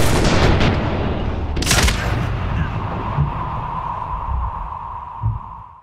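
Shotgun blast in the Medal of Honor Warfighter shooter game, a sharp loud report early on followed by a ringing, droning tail and low rumbling combat noise.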